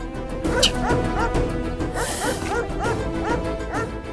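A dog barks repeatedly at the door at night, a rapid series of close yapping barks mixed with whimpering yips, loud and continuous throughout.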